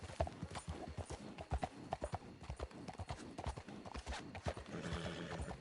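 Horse hooves clip-clop over the ground in the Red Dead Redemption 2 game, with irregular clustered hoofbeats and a neigh, close and fairly loud.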